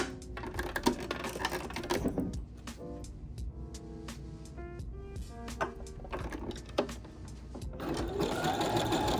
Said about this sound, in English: Start sewing about a 1/2 inch into the stitch and then add the elastic